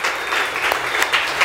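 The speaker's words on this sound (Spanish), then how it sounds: "dele un aplauso a usted, a su hermano que tiene la par" Congregation applause during a church service, a dense, steady wash of many hands clapping close by, with a few sharper individual claps standing out.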